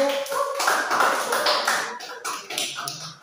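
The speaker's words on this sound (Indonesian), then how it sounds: "kasih tepuk tangan grup 1" Audience applause for group one in a classroom presentation, a dense burst of clapping from many hands that continues for a few seconds with a voice underneath.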